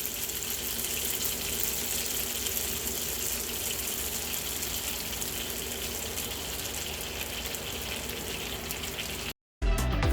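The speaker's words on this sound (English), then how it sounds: "I just wanted y'all to hear that real-time sizzle" Steady, dense sizzling of shrimp frying hot in butter and olive oil in a pan fills the clip without pause, with a brief cut near the end.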